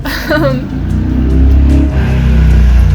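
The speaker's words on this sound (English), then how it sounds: "You'll have to excuse the car passing." A car passes outside a farmhouse with thin walls, a low engine rumble that swells and holds steady, heard through the building and mixed with indoor noise.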